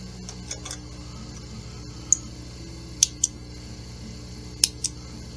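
Scissors snip through quilt fabric pieces in a few quiet, sharp clicks, two close together near the middle and another pair toward the end, with no talking.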